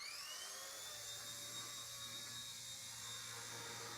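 Small electric motors of an RC ERA C138 pro stunt helicopter spin up, giving a steady, close, high-pitched whine with a low hum underneath that holds unbroken throughout, with no talking.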